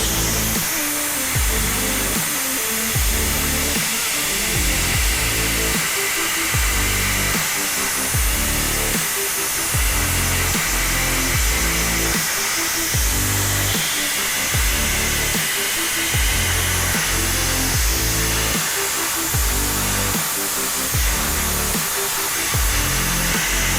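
A dry ice blaster running at about 70 PSI hisses loudly and continuously against a car transmission case, with repeated rhythmic surges in the roar as the nozzle sweeps across the greasy metal.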